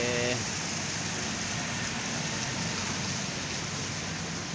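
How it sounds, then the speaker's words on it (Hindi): Steady rain falls in a town in Jhelum, Pakistan, with traffic passing by, forming a continuous broadband hiss of rain and road noise at even loudness throughout. "ट्रैफिक आ जा रही है, मौसम बड़ा प्यारा हो गया है, बारिश भी लगी है"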